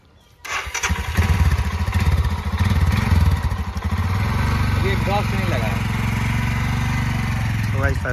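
A Royal Enfield motorcycle starts up and runs nearby, rumbling steadily with a thumping idle and brief revs while people talk over it.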